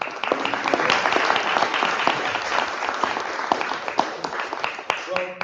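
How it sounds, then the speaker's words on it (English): Audience applause for Senator Tim Kaine at a law school event, dense steady clapping from a room full of people with some voices mixed in, tapering off near the end. "Please give him another round of applause."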